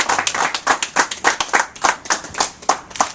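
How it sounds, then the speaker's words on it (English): Small crowd applauding boxer Joel Castillo at a boxing press conference in a New York club, a handful of people clapping in loose rhythmic claps, close and fairly loud. "Let's give a big round of applause for Joel Castillo"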